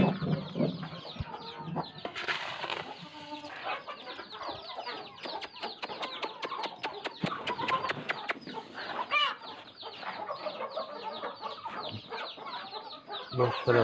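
Hens and chicks cluck and chatter steadily at close range while being fed millet and grain, with scattered pecking and rustling throughout and no clear talk.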